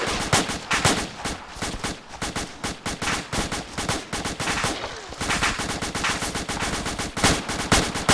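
Sustained gunfire fills a military shooter video game, with rapid automatic bursts and single shots crackling densely and loudly for the whole stretch and no break.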